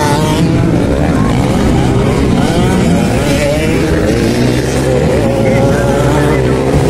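A small 85cc racing motorcycle roars loud and close with continuous high revving engine noise, other bikes mixed in during a race, with crowd voices faintly underneath.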